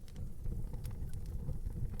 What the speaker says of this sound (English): I know it's raining outside